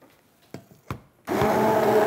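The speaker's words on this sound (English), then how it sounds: "now I'll give it one final stick blend before I start doing my more delicate ingredients" A few quiet clicks and knocks come first, then a stick blender starts up and whirs loudly and steadily as it mixes a sea clay face mask.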